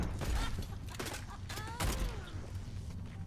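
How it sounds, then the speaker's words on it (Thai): Grenade launcher fire in the Overwatch video game: several quick booming shots and thuds in a burst, mixed with game effects, fairly faint overall. "เปิดฉากด้วยกันยิงระเบิดครับ"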